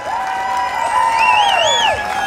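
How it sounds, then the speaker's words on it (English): A crowd at a large staff party cheers and whoops loudly, with shrill rising and falling shouts over a steady wash of clapping. "let's give them a huge round of applause"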